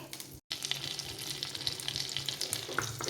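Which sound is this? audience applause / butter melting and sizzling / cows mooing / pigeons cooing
butter melting and sizzling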